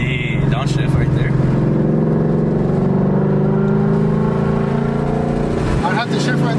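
Heard from inside a 2018 E85 Mustang, the engine drones steadily under load, with pitch shifts as it revs through a downshift, loud and close; someone talks over it.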